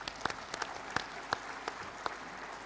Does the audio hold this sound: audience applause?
yes